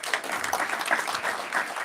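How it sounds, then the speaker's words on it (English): Conference audience applauding at the close of a talk session during a cloud native sustainability event in Barcelona, a steady dense clatter of many hands filling the room for about two seconds. "a round of applause for our speakers"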